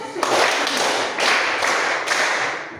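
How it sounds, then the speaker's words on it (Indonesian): Hands clap together in a counted sequence during a physics class, five crisp, evenly spaced claps in a reverberant room, loud and close. "1 kali tepuk, 2 kali tepuk, 3 kali tepuk, 4 kali tepuk, 5 kali tepuk"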